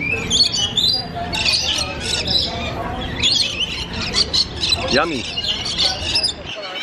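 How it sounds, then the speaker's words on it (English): Lorikeets squawk and chirp nonstop inside an aviary at an aquarium, their shrill calls loud and close and overlapping, while a person speaks briefly among them. "We're gonna go inside and feed the lorikeets."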